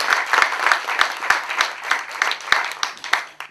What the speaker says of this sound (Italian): Io direi di fare un grande applauso sia all'autrice che all'editore,